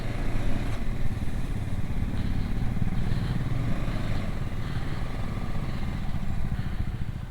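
A motorcycle engine runs steadily nearby as the bike is parked on one side at a resort in Ooty, a continuous low rumble at constant loudness with no talking over it.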